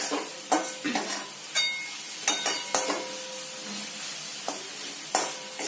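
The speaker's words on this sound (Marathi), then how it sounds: "थोडा वेळ असं हलवणार आहोत आपण याला" Spiced pasta mix stirred in a sizzling pan, with a steady frying hiss under repeated scraping and tapping strokes of a spoon against the pan, close and moderately loud.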